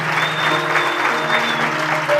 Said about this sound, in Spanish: Que llegue a los cielos ese aplauso.